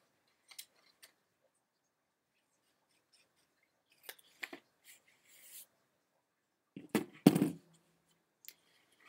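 Scissors cutting cardstock on an angle for a lemon-themed birthday card, a few short crisp snips, then a longer close cutting burst, with quiet gaps between.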